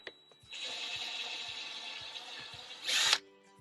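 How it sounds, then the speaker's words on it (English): A power drill whirs steadily for a few seconds while drilling a pilot hole in wood, revving louder just before it stops, with faint clicks before and after. "I'm going to drill my little first hole here."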